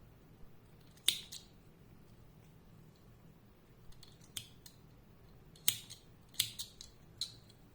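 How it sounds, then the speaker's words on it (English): Scissors snipping yarn on a crocheted Halloween spider: a handful of crisp, close metallic snips at irregular intervals, some in quick pairs, against a quiet background with no talking. "And just cutting the yarn."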